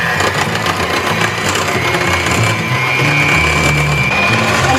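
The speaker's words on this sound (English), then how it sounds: "We're going to beat this for at least 8 to 10 minutes." A Bavarian cream soufflé mixture is beaten by machine, a continuous loud buzzing whir with a faint rising whine that stays even throughout.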